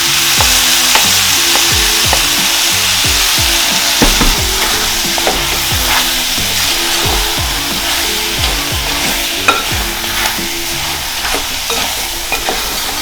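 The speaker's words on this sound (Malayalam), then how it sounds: "ജസ്റ്റ് നമുക്ക് നമ്മുടെ ചിക്കൻ മസാല വരട്ടി വെച്ചേക്കണം ചിക്കൻ ആഡ് ചെയ്യാം." Chicken tandoori masala with tomato frying in a pan while being stirred, giving a steady loud sizzle broken by repeated scraping and clacking strokes of the spoon throughout, with no talking.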